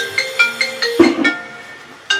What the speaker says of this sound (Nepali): ए फेरि कसको फोन आयो